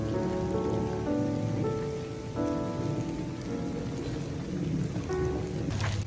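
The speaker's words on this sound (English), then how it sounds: "The rain definitely has not stopped at all from the time it started last night till now." Steady rain pours down at a hillside campground, a dense, constant hiss of drops drumming on surfaces that stays loud and even throughout, with no voices.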